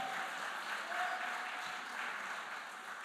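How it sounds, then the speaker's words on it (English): An audience at a PNM political public meeting in Trinidad and Tobago applauds, a steady, fairly distant wash of many hands clapping with no talking. "Please give him another round of applause, ladies and gentlemen."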